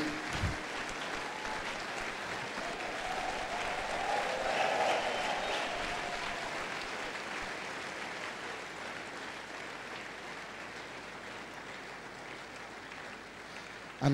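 A church conference audience claps for senior pastor Poju Oyemade, a soft, distant wash of applause that swells briefly near the middle and then gradually fades.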